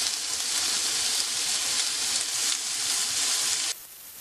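Ground pork sizzles steadily as it fries in a pan, a loud, even hiss of hot fat that runs without a break before cutting off abruptly near the end.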